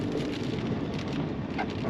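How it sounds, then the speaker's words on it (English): Steady, dense rain pours down during a wild camping trip near Lolo Pass, Idaho, a constant loud hiss of drops drumming on surfaces with no pauses and no voices. "The rain has started up. It's coming down pretty good."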